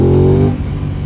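A new motorcycle, still being run in, revs hard and close for about a second, with a loud tonal engine note that breaks off abruptly into a rougher, lower rumble.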